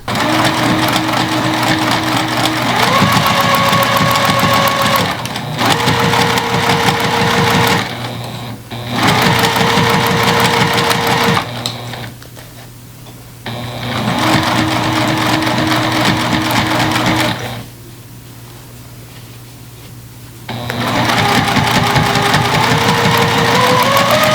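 A sewing machine stitching a dress armhole closed, a loud close whirring hum in several long runs that start and stop with short quiet gaps between them.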